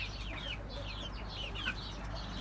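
Young growing chicks of Türken, Ameraucana and village breeds cluck and peep in repeated short calls over a steady low background hum.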